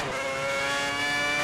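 An F1 car in the F1 2010 racing game accelerating hard at the German Grand Prix, its high-pitched engine whine loud and steady with rising harmonic tones as the revs climb, and no voices.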